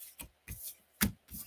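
Tarot cards being shuffled by hand, heard as four short, soft riffling bursts with brief pauses between them and no talking.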